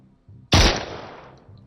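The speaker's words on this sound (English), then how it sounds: "and then single shot." A single loud gunshot rings out in the PS4 VR game Survive, a sharp close blast whose echo decays over about a second in an otherwise quiet scene.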